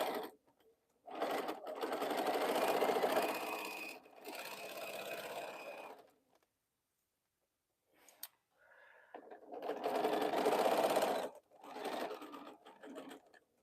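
A sewing machine stitches quilt seams in long, steady mechanical runs, loud and close, pausing between bursts and sometimes falling silent.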